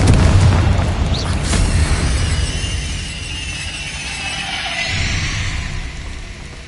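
Explosive spell blasts in Hogwarts Legacy, a loud booming burst at the start that rolls into a long rumbling decay, with a second swell of debris and crackle near the end.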